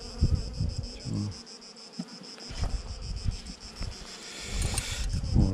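A drone-laying honeybee colony hums in a dense, continuous buzz, with individual bees droning close past the microphone and some soft wind noise, with no talk.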